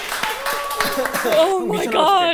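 A small audience claps in scattered bursts during the first part, with voices talking and exclaiming over the clapping and continuing after it fades.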